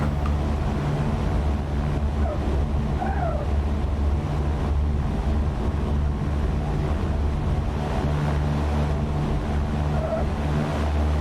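An airplane engine at full throttle for takeoff in the X-Plane 11 flight simulator: a constant, loud, low droning roar that holds steady throughout without a break.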